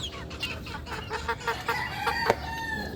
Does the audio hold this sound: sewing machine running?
no